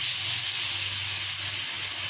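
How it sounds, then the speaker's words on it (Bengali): Water is poured into a hot pan of frying spices, producing a steady, continuous hiss and sizzle that stays loud and even throughout with no voices. "জল দিয়ে দিচ্ছি পরিমাণ মতন।"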